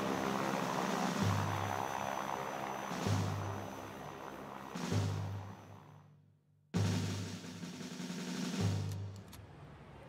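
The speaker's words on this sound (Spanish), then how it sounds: "Un grupo de aviones llega desde el Palomar y arroja volantes sobre la ciudad." Propeller airplanes from El Palomar fly over the city dropping leaflets, a droning engine roar that swells and fades in repeated passes, with a brief cut to near silence partway through.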